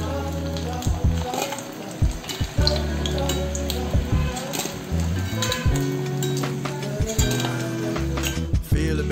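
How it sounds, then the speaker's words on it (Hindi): Batter-coated paneer pieces deep-fry in hot oil in a kadhai, giving off a loud, steady sizzle broken by occasional clinks of a utensil. "इसी तरह से हमें सारे अपने पनीर को फ्राई कर लेंगे उस बैटर में डालने के लिए"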